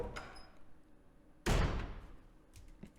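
In the Resident Evil video game, a door is smashed in with a single heavy, sudden crash and thud partway through, its rumble fading out over the next second amid quiet background noise.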